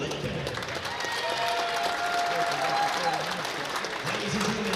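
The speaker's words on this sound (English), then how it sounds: "please give a round of applause to these cheer and women's basketball Capital seniors" Crowd applause fills a gym at a college basketball game as cheer and women's basketball seniors are honored, steady clapping and cheering throughout with a faint whistle-like tone in the middle.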